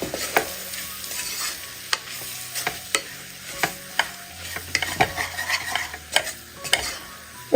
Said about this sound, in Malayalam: ഈ പൊടിയുടെ പച്ചമണം മാറി കിട്ടുന്നവരെ ഒന്ന് ഇളക്കി കൊടുക്കുക